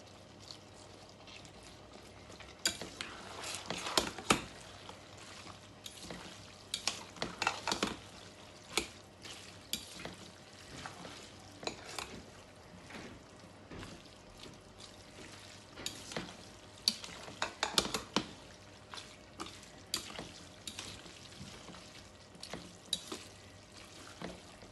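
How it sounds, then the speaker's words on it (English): Mackerel fish and spaghetti sauce get stirred together in a pan with a spoon, a quiet, steady run of scraping and soft sizzling strokes that repeats close by, with no talking. "And then I'm going to stir everything together."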